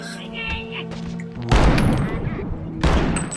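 Gunfire in the VR shooter Bonelab, with two loud, abrupt blasts about a second apart, each trailing into a noisy decay after a quieter stretch.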